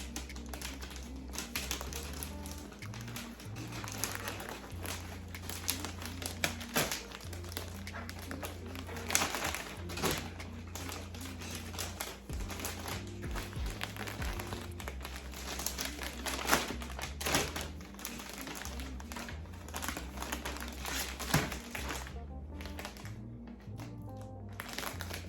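Plastic bags crinkling and rustling as apparel is bagged and tagged, close and fairly quiet, a busy run of crackles and taps going on continuously.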